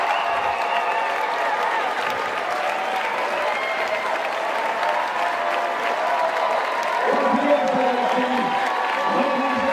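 Crowd at the IFSC bouldering World Cup in Salt Lake City applauding and cheering steadily, a dense sustained wash of clapping and shouts that swells slightly near the end.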